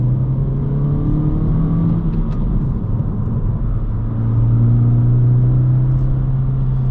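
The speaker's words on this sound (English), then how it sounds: "The induction noise is so much louder." A 2022–2024 Honda Civic Sport/LX 2.0 engine with an OEM airbox mod, its intake induction noise droning steadily as the revs hold and swell slightly near the end, loud and close with no talking.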